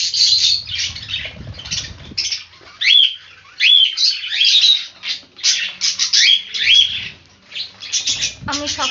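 Many caged birds chirp, tweet and squawk in a dense, continuous chatter close by, with occasional wing flapping and low rustling underneath.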